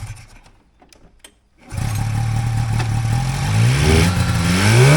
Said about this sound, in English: My belt tension's definitely tight. You can hear that squealing.